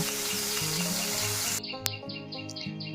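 Chopped onions dropping into hot oil with cumin seeds, giving a loud, dense sizzle that drops sharply partway through to a quieter crackle with a few brief clinks, alongside a background musical tune.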